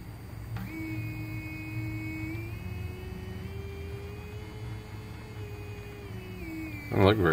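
A square wave tone from a frequency generator for a power feed and CNC project, played through a speaker, holds as a steady buzzy pitch that drifts slightly upward, then ends in a short clatter.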